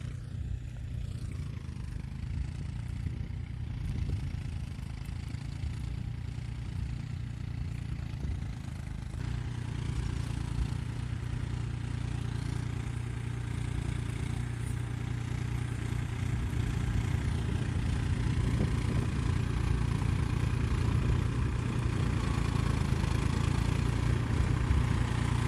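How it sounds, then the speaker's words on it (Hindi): Low, steady diesel drone of a New Holland 4710 4x4 tractor bogging down in a wet, waterlogged field edge, droning continuously and growing slightly heavier partway through, with no talking. "खेत किनारे पर गीला है इसीलिए ट्रैक्टर दब रहा है।"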